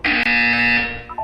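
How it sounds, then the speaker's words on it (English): A loud, harsh electronic buzzer from the video game Portal 2 sounds in a steady sustained tone for most of a second, with a brief break near the start, then fades out. "When you hear the buzzer, look up at the ceiling."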